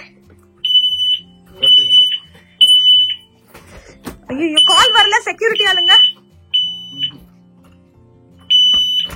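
A smoke alarm beeps loudly in repeated high-pitched bursts inside a house, with urgent voices and a loud burst of agitated Tamil talk and shouting in between.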